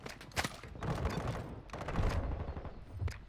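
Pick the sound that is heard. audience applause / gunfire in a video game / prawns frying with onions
gunfire in a video game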